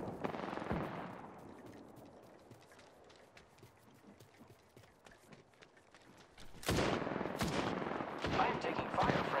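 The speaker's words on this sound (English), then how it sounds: "I am taking fire, friends." Rapid gunfire bursts from an Apex Legends arena match, with quieter scattered shots early on, then loud, dense automatic fire crackling through the final few seconds.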